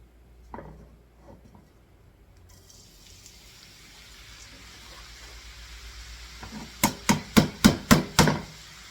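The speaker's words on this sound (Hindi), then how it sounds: "ये गर्म हो जाए, इसमें गाजरें फ्राई करते हैं।" Carrots frying in hot desi ghee for gajar ka halwa give a steady sizzling hiss that builds gradually. A quick run of sharp metallic taps comes near the end, with no talking.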